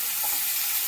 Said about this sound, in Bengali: এরপর অ্যাড করে দিচ্ছি আলুটা। ভালোভাবে এরপর মিক্স করে নিচ্ছি মশলার সাথে।